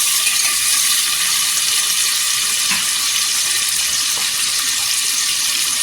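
Chili thecha fries in hot oil as tomatoes go in, giving a loud, dense, steady sizzle with a couple of faint clicks, no voices.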